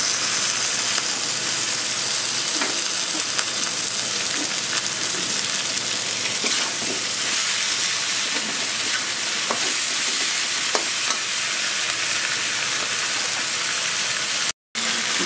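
Taro leaf greens hiss and sizzle steadily in a hot pan of oil while being stirred, a dense continuous frying noise broken by small scraping clicks of the spatula, close and fairly loud.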